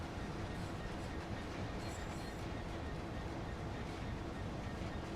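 Continuous rumble and rattle of a train rolling on rails in Train Sim World 2020 on the East Coast Way line, steady and fairly loud throughout, with faint wheel clatter and no clear talk.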